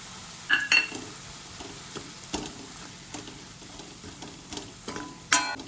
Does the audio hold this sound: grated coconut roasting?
yes